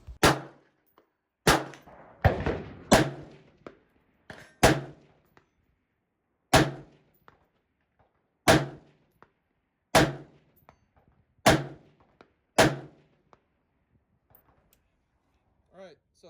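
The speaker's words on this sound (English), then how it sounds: "get some hits on the 200-yard steel" Rifle rounds striking black-painted steel targets at 200 yards, a series of about ten sharp metallic clangs spaced a second or two apart, each ringing briefly and fading into quiet, with faint speech near the start.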